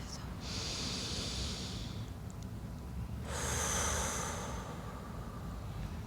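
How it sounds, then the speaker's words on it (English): Two long, deep cleansing breaths, one drawn in and then a slow, airy exhale, close to the microphone over a low steady room hum. "start by taking a big, deep cleansing breath"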